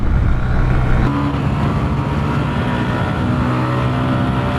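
A Honda CB Hornet 125 motorcycle races flat out in a 125cc drag race against a Hero Xtreme 125R, its engine a loud, continuous, close droning roar with no pauses.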